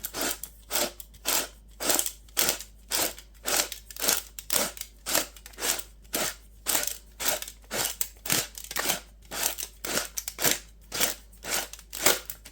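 An aluminum can cutter slicing around a can, a fast regular series of sharp crunching snips about twice a second, close and loud, continuing steadily for the whole stretch with no talking.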